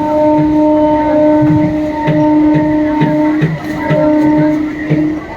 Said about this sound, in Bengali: এই ট্রেনটা লক্ষ্মীকান্তপুর থেকে আসছে